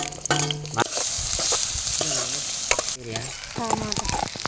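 Fish curry sizzles in hot oil while a spoon stirs and scrapes the pan, steady frying noise close up with voices talking over it at intervals.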